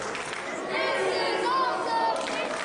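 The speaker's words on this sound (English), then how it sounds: "Crowd loving the action." Wrestling crowd at a House of Glory Wrestling event roaring and cheering loudly in an indoor venue, a sustained dense wall of voices that swells partway through and stays high.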